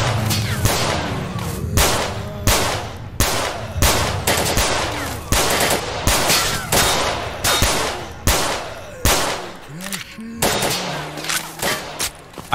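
Loud, close gunfire from the video game STALKER Narodnaya Solyanka, with rapid bursts and single shots cracking in quick succession and echoing, filling the stretch without talk.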